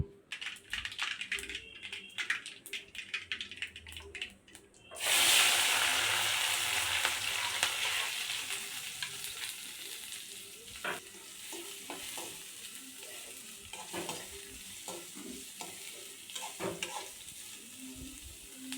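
Mustard seeds, cumin, onion and green chillies frying in hot oil in a kadai: a burst of loud sizzling starts partway through, then settles into a steady crackle with scattered clicks and scraping stirs.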